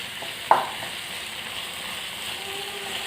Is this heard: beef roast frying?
yes